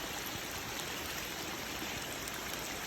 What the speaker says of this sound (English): It's a new creek